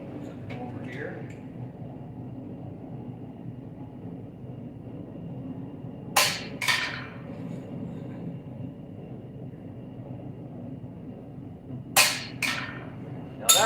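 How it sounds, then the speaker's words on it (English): A hammer strikes a homemade sharpened center punch into metal twice, each time a pair of sharp, bright taps a fraction of a second apart, set against quiet room hum with speech in the room. "I'm going to use my center punch that I made with the sharper end on it"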